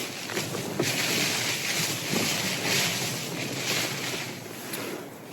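Gale-force wind gusting hard across an exposed winter wild camp in a storm, a loud continuous roar that swells and eases in waves, buffeting close to the microphone with no talk.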